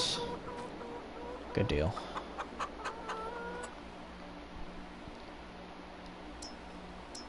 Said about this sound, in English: So now we got some chickens in here, and we got some roosters.